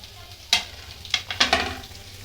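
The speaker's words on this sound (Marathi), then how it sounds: "मस्त फ्राय करून घेऊया" Onions frying in a pan with bay leaf and cinnamon for chicken gravy, with a few scraping stir strokes over a soft, steady sizzle, close by and fairly quiet.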